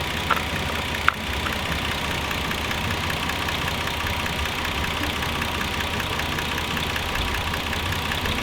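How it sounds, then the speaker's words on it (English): A warmed-up older car engine idles steadily and close by, a continuous even rumble with a faint knocking texture and a brief click early on, with no talking. "Let me check the blow-by now that the motor's warmed up and it's running."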